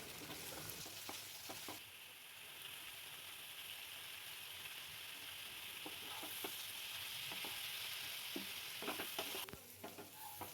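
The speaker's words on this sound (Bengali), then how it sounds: "কড়াইতে পরিমাণ মতো তেল গরম করে নেওয়ার পর সেদ্ধ করে রাখা এঁচোড়গুলোকে ভেজে নেব।" Boiled young jackfruit pieces fry in hot oil in a wok, with a steady bubbling sizzle broken by repeated sharp stirring scrapes and clinks of a spatula, close up with no voices.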